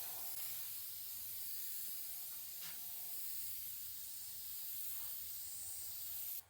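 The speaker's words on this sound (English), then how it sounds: "And shellac sprays really nice." A spray gun lays a final coat of shellac finish onto a piece of furniture, giving a steady, close airy hiss that runs unbroken for several seconds before cutting off.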